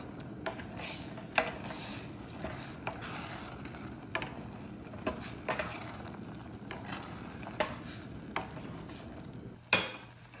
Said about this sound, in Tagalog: nag-add ako ng half glass ng water at ngayon imimix ko siya